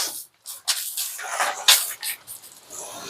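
Bursts of water spray hiss onto greenhouse glass in short, uneven pulses, fairly close and clear, with no voices over them.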